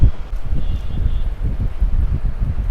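Wind gusting outdoors before a rainstorm, a loud, buffeting rumble against the microphone with rustling, steady across the moment.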